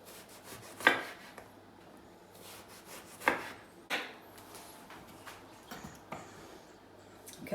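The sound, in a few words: chopping aubergine on a board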